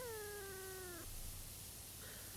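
A cat meow sound effect plays once as a drawn-out, clear caterwauling meow lasting about a second, loud and isolated, followed by a brief fainter trailing note.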